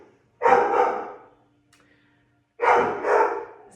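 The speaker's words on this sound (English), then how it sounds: "sorry, that's my grand dog" A dog barks indoors in two loud, close bursts of a couple of quick barks each, separated by a pause of near silence.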